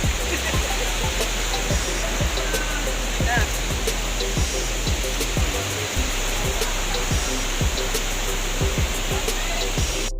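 Pinlac Falls pours as a loud, constant broadband rush of falling water, close by, with regular low thumps running underneath.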